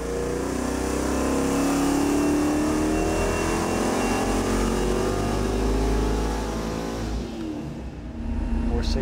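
A bracket race engine built from repurposed parts roars at a steady high pitch during a dyno pull, then drops off sharply near the end and settles to a rougher idle.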